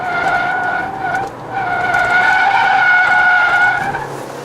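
Genesis G70 3.3T Sport HTRAC taking a corner in sport mode on a hilly road, its tires squealing in a loud, sustained, wavering screech that dips briefly and then holds steady to the end, with no talking.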